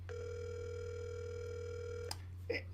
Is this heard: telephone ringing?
yes